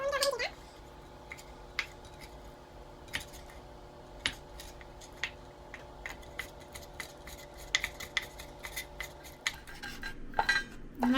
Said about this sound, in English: so that's why I'm going over it again with a knife.